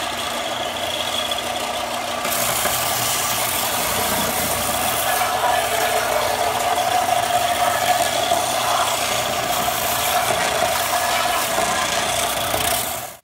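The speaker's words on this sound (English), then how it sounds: "I'm just going to use the belt sander to sand out any imperfections." A belt sander smooths imperfections on a handmade wooden skateboard deck, a continuous close motor drone with gritty rasping that steps up in intensity after a couple of seconds and cuts off at the end.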